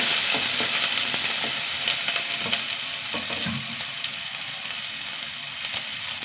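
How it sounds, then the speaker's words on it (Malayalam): Small shallots frying in oil in a pan with dried red chillies and curry leaves, a loud continuous sizzle with occasional stirring scrapes, close and steady throughout, no voices. "ഉള്ളി നന്നായി വഴണ്ട് വരട്ടെ"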